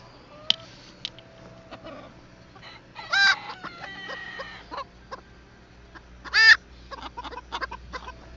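Backyard chickens at feeding time cluck steadily nearby while a rooster crows loudly twice, the two calls spaced a few seconds apart, with no talk.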